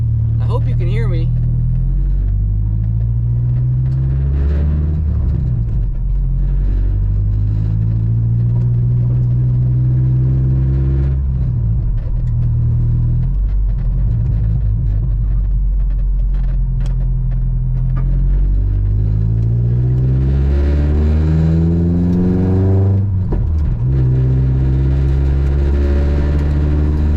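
A truck engine rumbles steadily from inside the cab while driving, with low harmonic drone rising and falling through gear changes and acceleration, loud and continuous for the whole stretch.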